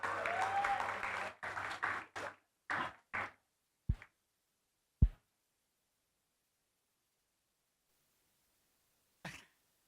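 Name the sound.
applause for the moderator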